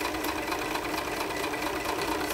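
A sewing machine runs a continuous, steady stitching hum while sewing a zippered tote in a co-op sewing class, close and unbroken with no talk.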